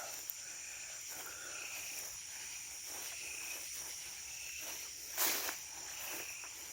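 Bugs chirp steadily through a night-time cemetery, a dense, even insect drone with a brief louder rustle near the end, no talking.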